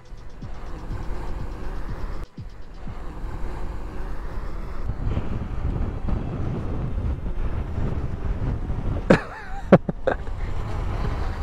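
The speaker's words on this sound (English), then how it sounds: "High wind. It says high wind." Strong wind roaring across the open water during a stormy boat ride, a steady loud rush of buffeting against the microphone, with a few sharp knocks near the end.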